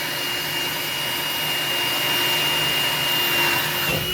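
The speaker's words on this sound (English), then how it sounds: "Cut through the steel plate quite nicely." A cobalt drill bit boring through lubricated steel plate produces a loud, continuous grinding whine with a steady high tone that holds throughout without pause.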